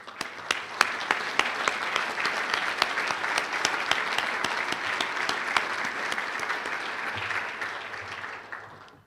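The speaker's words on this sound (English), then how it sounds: "Let's all give them a round of applause." Steady applause from an audience honoring the Downtown Lincoln Association board and staff at its annual awards event, dense clapping throughout with no speech, thinning slightly near the end.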